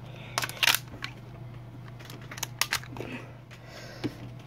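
Small plastic clicks and snaps from a toy BB gun magazine being reloaded, several sharp close taps scattered over a quiet background with a steady low hum.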